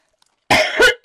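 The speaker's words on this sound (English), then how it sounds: "Coughing my head off." Two or three harsh, close coughs in quick succession after a moment of silence.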